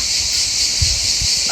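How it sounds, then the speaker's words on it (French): Cicadas singing in a dense, continuous high-pitched buzz outdoors, loud and steady throughout, with a few low thumps and rustles beneath. "Ça cigale bien ici aussi."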